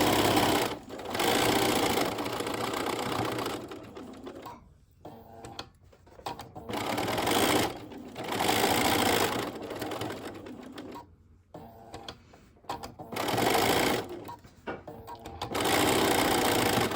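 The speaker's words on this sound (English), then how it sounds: "You're going to then, before you do anything else, you're just going to top stitch it." A sewing machine top-stitches fabric in several bursts of steady, rapid mechanical whirring, loud and close, with short pauses between the runs.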